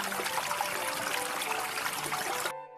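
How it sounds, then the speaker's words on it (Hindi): Steady babbling river water flowing through a dense green forest, a continuous broadband trickle and splash that holds evenly for a couple of seconds before cutting away abruptly. "कलकल करती नदी"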